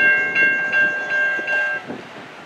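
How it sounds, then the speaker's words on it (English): Two-engine freight train passing a crossing, its steady horn tones sounding over rhythmic wheel clatter and rumble, fading toward the end. "And there goes that two-car freight train."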